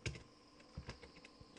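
Typing on a computer keyboard while entering code: a short, quiet run of irregular key clicks with soft thumps, no voice.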